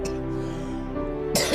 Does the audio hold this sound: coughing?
yes